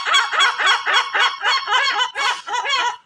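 Gulls begging for scraps near a hotel breakfast in Istanbul give a rapid series of about ten loud, close, repeated calls in a steady rhythm.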